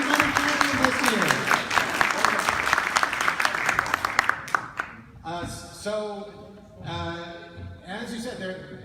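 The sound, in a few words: round of applause at a rally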